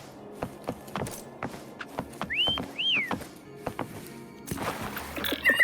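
Two rising whistle notes in Wuthering Waves, short and clear, amid rhythmic clopping footsteps and light game ambience.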